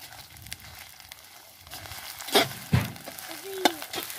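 Cumin paste frying in a pan as Bengali spices cook alongside cinnamon and cardamom, a soft sizzle under a few sharp clinks and scrapes, fairly quiet and close.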